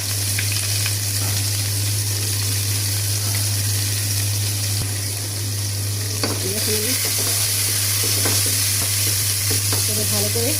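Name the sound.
chopped onions frying with dried red chillies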